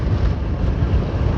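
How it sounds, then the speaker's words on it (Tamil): Steady, loud wind roar buffets a motorcycle rider's helmet with the visor open while riding at around 50 to 60 km/h, a continuous low rumbling rush with no pauses and no talk. "ஐயோ வைசர் ஓப்பன் பண்ணாலே காற்று வந்துகிட்டே இருக்குங்க."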